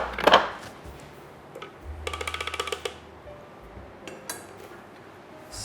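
Dishes and cutlery clink while Thermomix chicken cacciatore with Parmesan is plated, giving a sharp close knock, then a quick rattling run of metallic clinks and a few scattered taps in a quiet kitchen.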